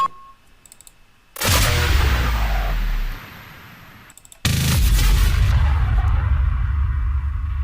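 Two heavy explosion effects from a sound-effects pack, each a sudden loud boom with a deep rumbling tail, the first fading after about two seconds and the second sustained to the end, separated by a short quieter gap.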